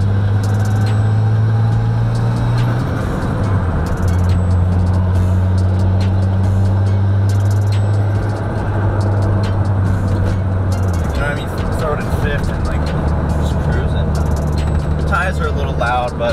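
A car with a locked differential and cheap tires drives along with a low, rumbling engine note that steps up and down in pitch across shifts, near and loud, with people talking over it.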